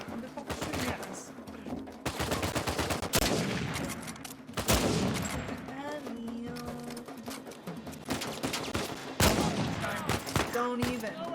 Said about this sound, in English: Who the fuck is shooting at us?